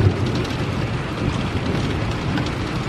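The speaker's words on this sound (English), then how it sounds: "looks like the rain's picking up a little bit" Steady rain grows heavier outdoors, a broad, even hiss with low rumble and some wind buffeting the microphone, continuous and fairly loud with no voices.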